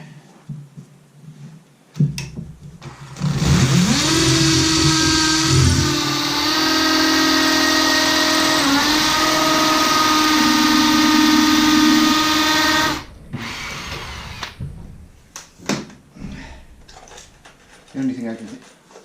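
A power drill bores into a brick wall, whining loudly and steadily for about ten seconds with shifts in pitch as the bit struggles, framed by quieter handling noise before and after.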